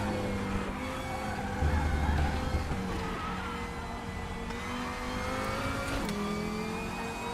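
A race car in RaceRoom is braked hard from speed, its engine note dropping through downshifts with blips and tire squeal, loud and continuous.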